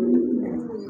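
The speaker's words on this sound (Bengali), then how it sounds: "এই যে দেখেন কবুতরগুলো মাশাল্লাহ" Pigeons cooing at a home loft where breeding pairs are kept with eggs and chicks; a low, steady rolling coo fills the whole moment, close and continuous, with a brief soft flutter near the end.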